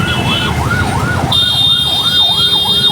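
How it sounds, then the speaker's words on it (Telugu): An ambulance siren wails in a steady rising-and-falling cycle through heavy road traffic, loud and close, with sustained vehicle horn tones joining partway through over a low rumble of engines. "వెనకాలేమో అంబులెన్స్ సౌండ్"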